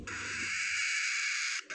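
Cockatiel chick giving a single hoarse, raspy call, a sustained breathy hiss-like screech lasting over a second, close and loud with no talking.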